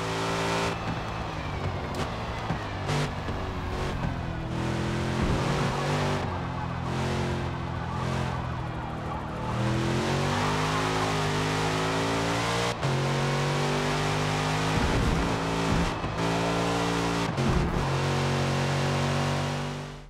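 A Chevrolet No. 3 Corvette Racing C7R race car engine in a racing video game, roaring and revving through gear shifts, pitch climbing and dropping repeatedly, loud and continuous with synthetic clarity.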